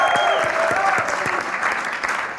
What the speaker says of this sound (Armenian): Ես ուզում եմ բարձր ծափարենք ամբողջ կապույտ տրիբունային լավ աջակցելու